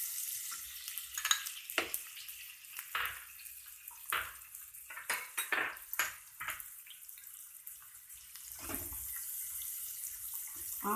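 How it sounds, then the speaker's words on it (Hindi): Chopped green chillies and onions frying in a pan over high heat, faint sizzling with intermittent clattering stirs and short bursts, fairly quiet throughout. "उसके बाद इसमें बारीक कटी हरी मिर्च, प्याज डालिए और इसे 3 मिनट तक फ्राई कीजिए।"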